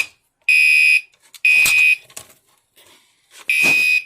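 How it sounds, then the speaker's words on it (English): A fire alarm blasts in three loud, piercing electronic tones, each about half a second long, separated by short gaps with faint clatter and quiet in between. "Is that the fire alarm?"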